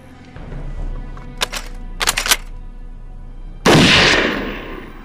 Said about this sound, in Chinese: 他们开枪了